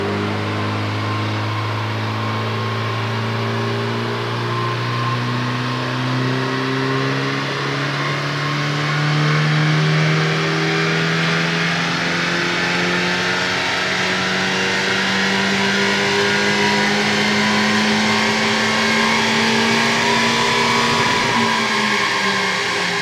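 A Honda Civic FL5 fitted with a carbon intake system revs steadily on a dynamometer, its engine note climbing smoothly in pitch for about twenty seconds, loud and close, then dropping off sharply at the end.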